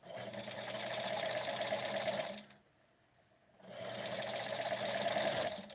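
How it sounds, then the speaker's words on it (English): Close sewing machine whirring in two steady runs of stitching a hem, broken by a brief pause of near quiet in the middle. "And I'm also going to do the hem with the sewing machine."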